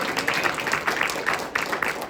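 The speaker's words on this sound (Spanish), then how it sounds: "Denle un aplauso al Señor," Church congregation applauding, steady scattered clapping throughout, moderately loud and filling the room.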